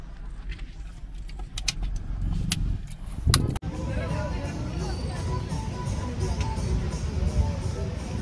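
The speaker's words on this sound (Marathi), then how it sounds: "ट्रॅफिक भरपूर." Heavy road traffic on a highway, heard as a continuous close rumble of passing cars with a brief clunk partway through and faint voices underneath.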